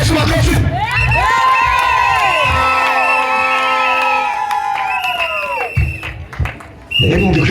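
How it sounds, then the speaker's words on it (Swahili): A church congregation at the opening session of a gathering in Kasulu breaks into loud, sustained cheering and high-pitched shouting and whooping, voices overlapping and rising, then fading briefly before another burst at the end. "Piga Yesu makofi."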